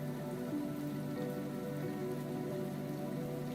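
A rain and thunder track plays as background music during a Unity FPS game development session, giving a steady, even hiss of rainfall throughout with no clear thunder.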